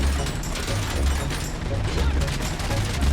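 Full-auto Auto 9 pistol fire in the RoboCop: Unfinished Business video game, a dense continuous stream of rapid shots with crashing impacts, loud and steady throughout, with talk over the top.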